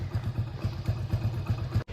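A motorcycle engine idling with a steady, rapid low thumping pulse, moderately faint, with a brief dropout just before the end.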